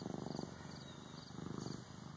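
A relaxed, drowsy two-year-old cat purrs close by in a soft, steady rhythmic rumble, swelling and fading with each breath across several cycles.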